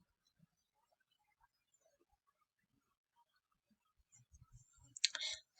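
Computer mouse clicks, a few soft sharp taps clustered near the end after a long stretch of near silence, close and quiet.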